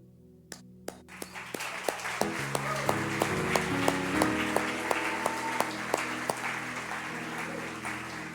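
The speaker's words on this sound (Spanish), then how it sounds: "¿y por qué aplaudimos?" A church congregation clapping during a sermon, steady applause building and holding under sustained organ or keyboard chords, with sharp percussive hits punctuating it at regular intervals.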